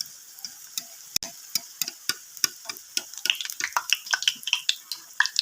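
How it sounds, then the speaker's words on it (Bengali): Puffed rice fritters frying in hot oil give off a steady run of sharp crackles and spitting pops, close and fairly loud, growing busier toward the end. "আমি উপর দিয়ে এভাবে একটু তেল ছিটকে ছিটকে দেবো।"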